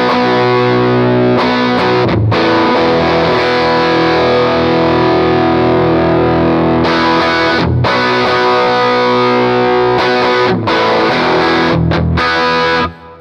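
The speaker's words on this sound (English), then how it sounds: "changing into overdrive or distortion" Loud, sustained overdriven electric guitar through a Chase Bliss Automatone Preamp MKII with heavy distortion, chords ringing out with a few brief breaks between phrases.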